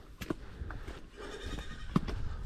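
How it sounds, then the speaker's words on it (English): A few short goat bleats ring out against a busy outdoor background, one louder and closer near the end. "the goats here."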